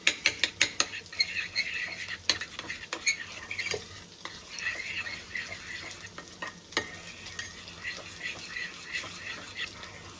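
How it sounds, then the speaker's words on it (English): Egg, pecorino and parmigiano sauce whisked briskly in a bowl, quick irregular clinks and scrapes of utensil against the side, close and fairly soft, with occasional faint voice nearby. "now we're gonna mix up this sauce here of eggs and pecorino and parmigiano"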